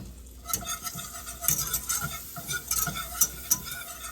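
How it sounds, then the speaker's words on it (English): Flour being whisked into melted butter in a pan. A whisk or utensil gives quick, repeated metallic clicks and scrapes against the pan over a soft, continuous bubbling sizzle, moderately close, with no talking. "we're going to add 2 tablespoons of flour, and we're going to whisk this"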